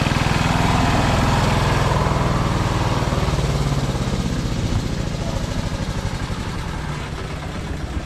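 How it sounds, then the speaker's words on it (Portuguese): Small work tractor engine running steadily on Sugarloaf Mountain, a close, loud putter that slowly eases and fades over several seconds. "Ó, o pessoal que trabalha aqui em cima. Só usa esses tratorzinhos aí."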